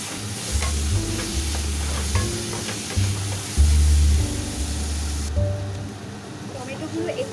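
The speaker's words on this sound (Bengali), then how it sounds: "টমেটোগুলো দিয়ে আরও 4 থেকে 5 মিনিট ভালো করে কষিয়ে নিতে হবে।" Chopped tomatoes stir-fried in a pan for ol chingri, elephant foot yam with prawns: a loud, steady sizzle with scraping stirs, under a voice.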